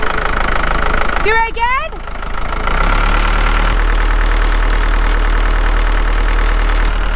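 A van engine idles with a steady low hum, and a loose bolt adds a persistent rattle close by; someone speaks briefly near the start.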